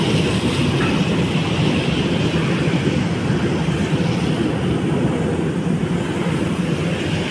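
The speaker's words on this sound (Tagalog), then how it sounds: "may dumana naman na train" A train rolls past at a construction site in a continuous, loud rumble with rattling wagons, steady and close throughout.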